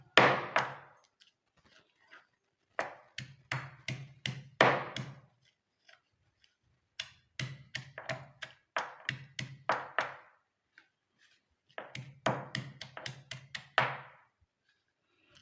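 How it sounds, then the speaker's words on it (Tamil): Omavalli leaves pounded by hand to press out their juice, a series of thudding knocks in bursts of several quick strikes with short pauses between, fairly close, no talking. "கொஞ்சம் கொஞ்சமாக போட்டு இடிங்க அப்போ தான் வந்து நல்லா இடிபடும்"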